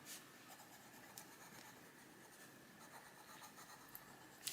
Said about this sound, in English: just get some vibrant colour down now on the paper